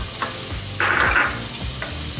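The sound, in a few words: onions sizzling while being stirred in a pan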